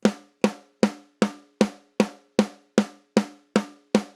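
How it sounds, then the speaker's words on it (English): A dry, tight blended snare drum sample hit repeated evenly about every 0.4 seconds, each strike short with no ring or room echo. "It's a dead, dry snare sample, but that's sort of what gives it its punch."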